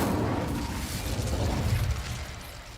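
The Incendio fire spell goes off in Hogwarts Legacy, a loud, rumbling whoosh of flame with crackling pops and low booms that gradually die away, with no talking.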